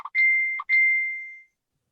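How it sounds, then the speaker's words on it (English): A phone notification chime plays two short tones that ring out clearly. The second tone fades away over about a second, leaving silence with no talk. "I just got a notification."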